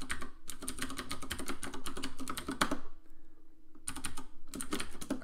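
Someone types a password on a computer keyboard, with quick clattering keystrokes in two rapid bursts separated by a short quiet pause, close and crisp.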